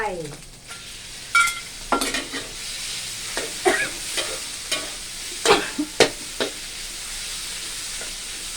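Pork is stir-fried with tomatoes and red curry paste in a pan for a Thai chili-tomato pork dish, giving a steady sizzle broken by repeated scraping stir strokes and light utensil clinks, close and fairly loud.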